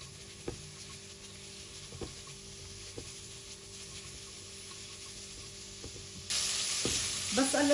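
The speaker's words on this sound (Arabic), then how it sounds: "كمان البصل، بحط رشة ملح خفيفة وبقليهن على الغاز" Onions with a pinch of salt frying in oil in a pot on a gas stove, giving a soft, even hiss with occasional light utensil taps. Near the end it swells into a louder, rougher rush.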